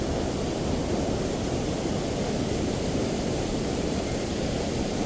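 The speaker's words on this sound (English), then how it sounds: "this water is running pretty fast, so maybe too loud" Fast-running water pouring through a dam, a loud steady broadband rush filling the whole stretch with no talk over it.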